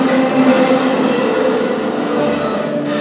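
Loaded ore cars of the Britannia Mine railway in British Columbia roll steadily along the tracks toward the mill, a continuous loud rumble with grinding metallic wheel squeal running throughout.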